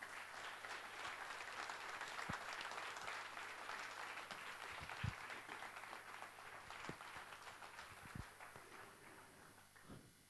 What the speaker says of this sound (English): please, with a loud round of applause, let's welcome the Chief Secretary of Karnataka, Mr. Kaushik Mukherjee, on stage